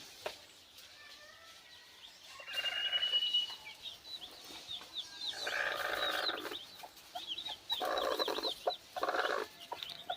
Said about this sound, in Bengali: আমার আর একটা মুরগির বাচ্চা ফুটছে